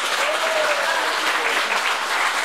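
Steady applause from a large crowd fills the whole stretch, loud and continuous, with a faint whistle or tone drifting through it.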